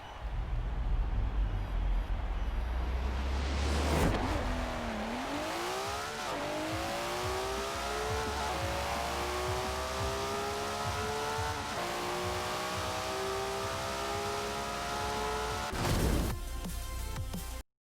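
A Nissan GTR Nismo in Forza Horizon 4 launches for a quarter mile run with a brief tire chirp, then screams up through the gears with a loud rising engine note and quick shift dips, ending abruptly.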